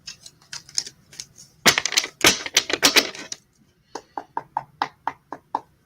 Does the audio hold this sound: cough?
no